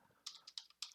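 Someone types a handful of quick keystrokes on a computer keyboard, close and crisp, with irregular gaps between the taps.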